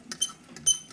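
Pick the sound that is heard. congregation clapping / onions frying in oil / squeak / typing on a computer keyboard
squeak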